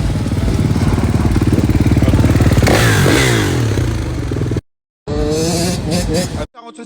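A motorcycle engine roars loud and close, revving with a rising, sweeping pitch in the middle, then cuts out abruptly before a short burst returns near the end.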